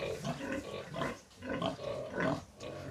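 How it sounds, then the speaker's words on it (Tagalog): Pigs grunt and snuffle close by at a farm in Adlaon, Cebu City, in short repeated bursts with no speech. "Hi, piggies."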